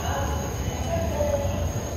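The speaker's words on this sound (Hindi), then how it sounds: "तो फाइनली अब ये लास्ट मेट्रो है।" A Delhi metro train ride heard from inside a carriage: a steady low rumble of wheels on track with a faint thin squeal running through it, moderately loud and constant.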